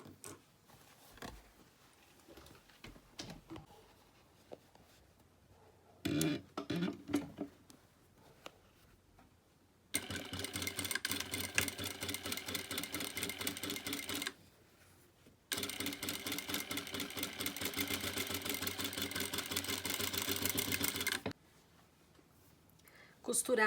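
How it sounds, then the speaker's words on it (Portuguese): Domestic sewing machine stitching a diagonal seam across fabric strips on a cloth placemat, running in two loud, steady bursts of several seconds each with a short pause between, after a quieter stretch of handling noise and talk. "vou passar uma costura nesta diagonal"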